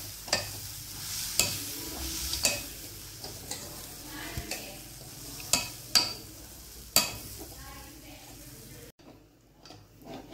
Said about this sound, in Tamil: இதை நல்லா மிக்ஸ் பண்ணிக்கலாம்.